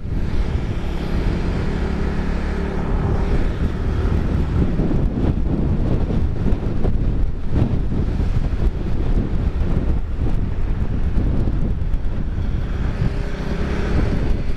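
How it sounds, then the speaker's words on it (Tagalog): Heavy wind roar battering the mic on a motorcycle ride through Malico, San Nicolas, steady and loud throughout, mixed with low engine drone and road rumble. "So alam na natin yung area na malakas ang hangin"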